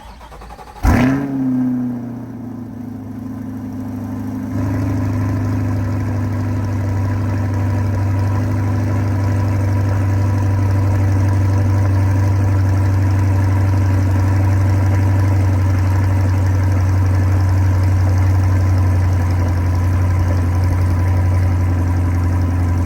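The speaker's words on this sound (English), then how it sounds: "cold start with the stock 87mm throttle body" A C8 Corvette with its stock 87mm throttle body cold-starts: a short crank and loud rev flare, then it settles into a strong, steady, deep idle that runs on alone without talk.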